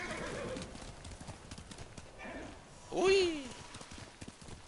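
Horse hooves and a whinny in the video game Ghost of Tsushima, with a sharp neigh rising midway over light hoof clatter, while a voice speaks briefly.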